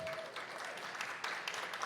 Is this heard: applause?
yes